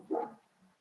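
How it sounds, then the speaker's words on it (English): A single sharp bark from a dog indoors, fairly close and brief, followed by a faint low whine. "Can you hear my dog go mad?"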